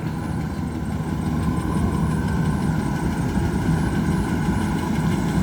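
A Kubota DC93G combine harvester's engine runs steadily at a low, heavy rumble, close and continuous with a broad mechanical drone and no speech.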